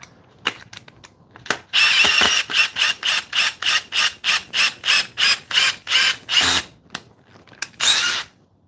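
A power drill with its clutch off and set to maximum runs in a loud rhythmic series of about a dozen short, even bursts, each whirring briefly then stopping, close and alone.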